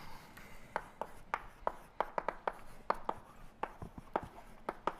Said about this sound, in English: I was bringing back the old board so I could write down that definition